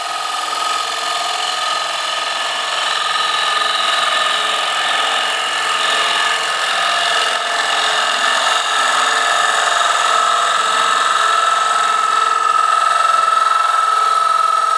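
A wood lathe spins steadily with a tool scraping the piece, a continuous whirring hum with a faint rough chatter running through it.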